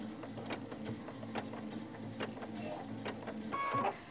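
A sewing machine does free-motion quilting, starting with a few small stitches close together: a close, steady mechanical hum with rhythmic ticking stitch beats, and a person speaks over it.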